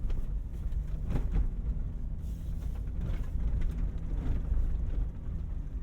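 A Toyota Land Cruiser rolls off-road, its low engine rumble steady under bumps and rattles from the rough ground, fairly close and moderately loud.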